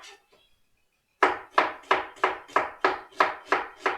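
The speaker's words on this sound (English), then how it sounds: "I'm cutting it, chopping my onions" A knife chops onions on a cutting board in a quick, even run of about nine firm strikes, loud and close, after a short pause with no talking.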